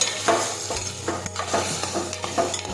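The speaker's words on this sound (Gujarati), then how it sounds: "હવે આપણે ગુવાર નાખીશું. ટમેટા નાખીશું સમારેલા. હવે આપણે સાતળી લઈશું." Cluster beans and chopped tomatoes are stirred in a hot pan, soft sizzling under repeated scraping strokes of a spoon against the metal, close and steady.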